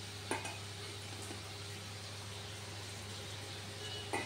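Pieces of homemade chhana paneer, mixed with a little flour and rice powder, fry in a pan. A soft, steady sizzle is broken by a couple of faint clicks of stirring.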